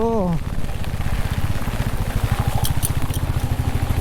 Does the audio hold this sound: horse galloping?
no